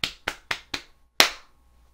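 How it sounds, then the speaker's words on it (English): Hands clap four times in quick, even succession, then once more after a short pause: sharp, close, isolated claps in a quiet room with no talking. "Give everybody a round of applause."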